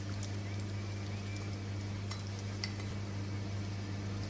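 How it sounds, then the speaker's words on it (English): Eggless chocolate Oreo cake batter with melted butter and milk being stirred in a bowl: soft, quiet scraping with a few light clinks of the utensil against the bowl, all over a steady low hum, with no talking. "Now I'm going to mix it well."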